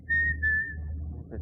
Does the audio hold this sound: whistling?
yes